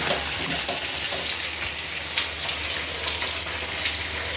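Food frying while cooking, a steady hissing sizzle of oil with small pops and crackles, close and constant throughout with no speech.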